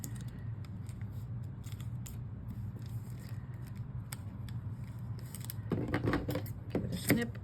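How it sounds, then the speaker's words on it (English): Scissors snipping paper during a washi-tape paper craft project, a few faint, quick cuts near the end over low room hum, with no talk. "Give it a snip."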